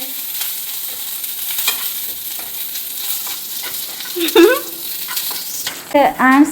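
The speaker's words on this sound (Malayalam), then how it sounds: "ബീഫ് ഫ്രൈ ചെയ്ത് തരികയാണ്" Beef frying in a pan at home in the morning, a steady close sizzle throughout with brief stirring clatter, plus a short high voice near the middle and another voice at the end.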